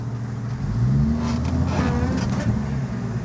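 A 1994 Jeep Wrangler engine hums steadily at low revs while the vehicle creeps in reverse in four-wheel-drive low, a close, even drone.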